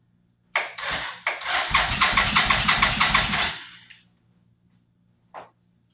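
Car engine bought in a Marketplace trade cranks several times, then catches and roars for a couple of seconds before dying away. A short faint burst follows after a pause.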